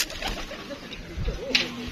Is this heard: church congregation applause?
no